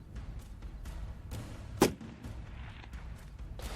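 A single sharp rifle report during long-range target shooting, one loud crack rising briefly over a steady low outdoor rumble.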